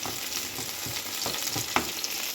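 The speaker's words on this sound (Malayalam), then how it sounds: "ഞാൻ സവാളയൊന്ന് എണ്ണയിലൊന്ന് വഴറ്റിയെടുക്കാം" Onion sautés in oil in a pan, giving a dense steady sizzle with a few scraping stirs and one sharper clink near the end.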